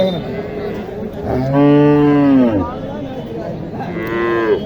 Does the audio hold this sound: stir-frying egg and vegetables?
no